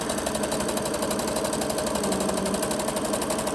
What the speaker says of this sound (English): put the needle down into the fabric and just sew